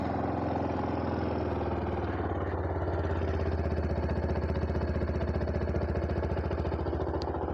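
Benelli BN 125cc motorcycle engine idling: a steady, even putter with a fast regular pulse, close by and alone, holding constant throughout.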